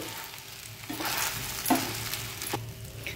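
Boiled potato pieces are stirred in a frying pan over gas, with a steady soft sizzle under scraping stirring strokes, close and fairly quiet.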